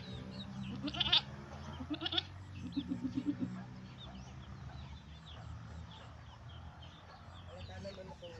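Goat bleating after giving birth on a farm, with several short nasal bleats and clucking chickens nearby over a murmur of background voices, fairly faint overall.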